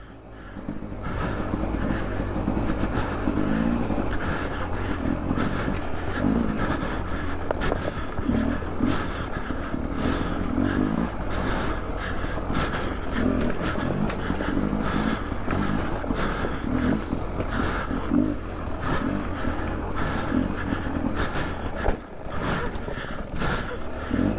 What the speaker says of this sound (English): The snow sure does make it harder. Tires are sliding.